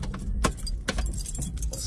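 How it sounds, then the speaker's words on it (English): Car keys jangle and clink in a few quick, close bursts over a steady low rumble, with no talking. "Let's get the keys out."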